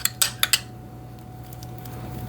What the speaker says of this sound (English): This is just the back of my spoon, just rubbing it on so that it'll have a nice golden brown top on it